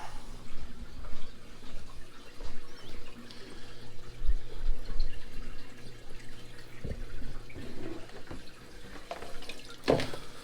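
Continuous splashing and trickling water pours from an opened outlet valve on an aquarium's automatic water change system, close and moderately loud, with occasional drips and a sharper splash near the end.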